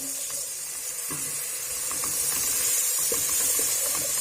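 Onion and spice masala with salt, turmeric and red chilli sizzles in a pan for Punjabi aloo matar as a little water goes in, giving a steady hiss with faint scattered crackles and stirring taps, rising slightly toward the end.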